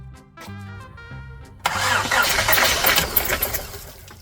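A starter motor cranks in a rapid rhythmic whir, then the Honda Accord engine catches and settles into a rough, steady idle close by.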